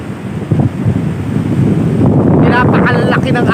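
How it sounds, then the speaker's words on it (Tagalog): Large ocean waves break and wash up on an abandoned beach, a loud, close roar that swells into a crashing surge partway through, with wind buffeting the microphone. "napakalaki ng alon, grabe"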